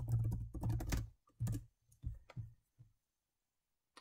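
Keys clatter on a computer keyboard in a short burst of quick, close taps that slow into a few separate strokes before falling silent.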